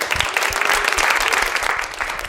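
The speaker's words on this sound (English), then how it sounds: "Give a round of applause for him." A festival audience at the YathaKatha literary event breaks into brief, dense applause, with close, steady clapping filling the whole moment.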